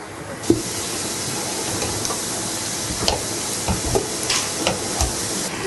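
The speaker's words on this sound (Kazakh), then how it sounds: "Мына жақта етіміз пиязымен қуырылып жатыр." Meat and onions frying in a pan for kuyrdak, a Kazakh fried-meat dish, a steady close sizzle and hiss with a few stirring clinks and scrapes, no talking.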